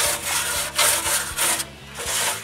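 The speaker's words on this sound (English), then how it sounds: "I scrub it with a metal brush." A metal brush scrubs a concrete mixer in quick, rhythmic back-and-forth rasping strokes, loud and close, with no voices.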